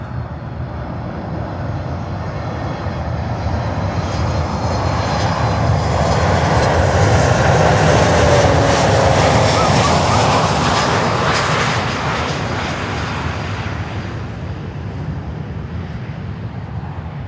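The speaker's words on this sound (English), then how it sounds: "the Southwest Flight 3009 from St. Louis in Missouri" A Southwest Airlines jet, Flight 3009 from St. Louis, arrives at Miami airport, its engine roar building from a distant rumble to a loud, close pass with a whining tone and then fading away, heard alone.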